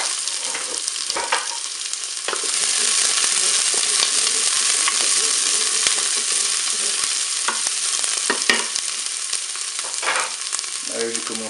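Onions frying in hot olive oil inside a preheated Cookeo multicooker pot make a loud, continuous sizzle. Occasional scrapes and taps of a stirring utensil break through it.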